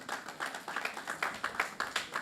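A small audience at an app launch event claps in a short burst, with distinct claps rising and falling in a loose rhythm, fairly faint and without talk.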